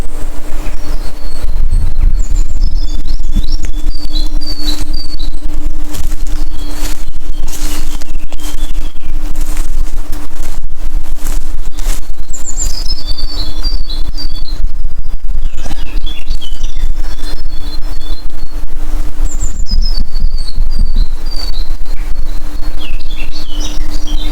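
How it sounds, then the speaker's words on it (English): Steady rain falls through a small, quiet wood at night as a constant hiss, with birds chirping intermittently above it and no voices. "You can hear it. Rain's coming down at the moment."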